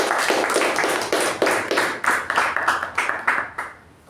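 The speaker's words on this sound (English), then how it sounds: "A huge round of applause to Toastmasters." A few people at a Toastmasters club meeting clap for the club, their close, distinct hand claps forming a brisk, uneven patter that thins out and fades near the end.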